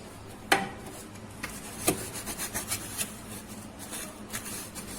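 Gear from a motorcycle riding kit being scrubbed by hand while washed in a bathroom, a close, dry rubbing and rasping with a few sharper strokes, steady but irregular, with no voices.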